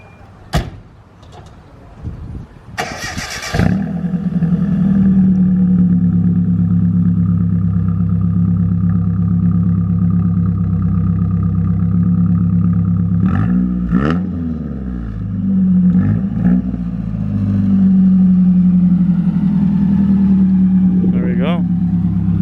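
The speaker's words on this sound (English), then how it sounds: "Give you guys a little sound video of the exhaust." A pickup truck engine, a Nissan Hardbody with a newly fitted exhaust, idles with a deep, steady exhaust rumble, revving briefly a couple of times before settling back to a loud, continuous drone.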